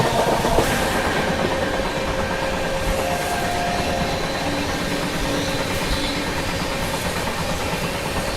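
The Rajdhani Express rolls past the Intercity train 12930 on a loop line, giving a continuous rumbling rail roar with faint clattering wheels, steady and fairly close throughout.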